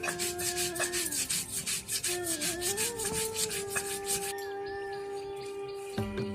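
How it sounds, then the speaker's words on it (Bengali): Mustard seeds and a green chili are ground on a grinding stone, giving a rapid, regular rasping scrape of stone on stone, close and continuous, with a few tonal sounds running through the background. "এখন আমি সর্ষে আর একটি কাঁচা লঙ্কা বেটে নিচ্ছি।"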